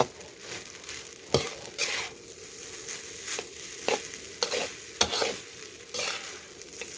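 A spatula stirs and tosses food around a pan, giving repeated scraping strokes in an irregular rhythm over a soft, steady sizzle, close by and with no voices.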